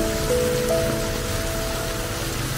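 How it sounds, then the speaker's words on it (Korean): Steady rain falls outdoors in the Philippines while someone walks through it, a continuous soft patter on surfaces with a faint tonal hum underneath and no talking. "와, 진짜 오랜만에 비 맞네."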